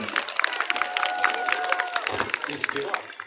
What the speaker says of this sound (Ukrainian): Оплески, оплески, облески